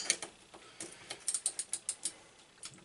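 A ratchet spinning out bolts during a Predator 212 engine teardown, close and fairly quiet, with a run of quick, evenly spaced clicks in the middle of the clip.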